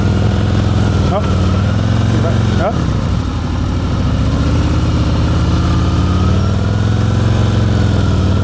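A motorcycle rolls at slow speed during an advanced slow-speed riding practice session in Georgia, its engine a steady, close low rumble with slight pitch changes throughout.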